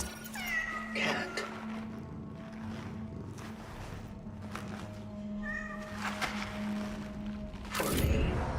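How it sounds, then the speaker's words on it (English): A cat in a video game meows several times, with clear drawn-out mews near the start and further meows later, over a steady humming game background. "There's a bunch of cats in the game and we have to pet them all, Cal, for a trophy."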